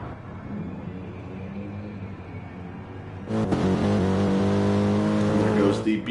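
A BMW GT3 race car leaving the pits on Dragon Trail in a racing game, the engine note swelling suddenly to a loud, harmonic-rich drone, with a commentator talking throughout.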